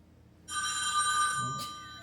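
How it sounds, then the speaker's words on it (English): A phone rings with a bright electronic trill that holds steady for over a second, then a short second burst follows, close by and loud in a quiet room. "It'll ring till it goes to the voicemail."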